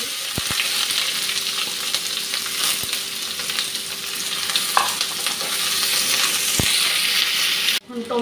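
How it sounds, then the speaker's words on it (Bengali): Cardamom, cinnamon, bay leaf and onion fry in hot oil with a steady close sizzle, a few sharp clinks of spices dropping in and a brief stir, no talking. "এখন আমি এলাচ দারচিনিগুলো দিয়ে দিচ্ছি। একে একে তেজপাতা, পেঁয়াজটাও দিচ্ছি।"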